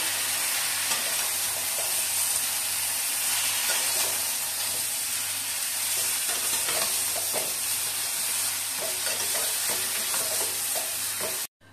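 Ridge gourd stir-fried in a pan with spices, a steady close sizzle and hiss with repeated scraping stirs throughout, continuous and fairly loud, cutting off abruptly at the end.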